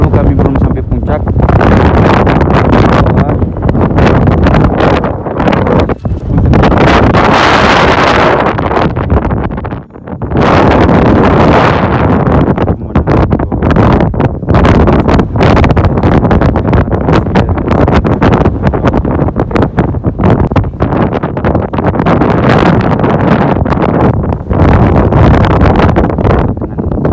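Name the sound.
strong wind on the Mount Rinjani trail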